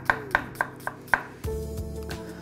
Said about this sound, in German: die schneide ich jetzt in feine Streifen.